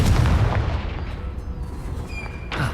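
A Confringo blasting curse detonates in Hogwarts Legacy with a loud, booming explosion at the start, then a long rumbling decay and scattered debris crackles, with a second thump near the end.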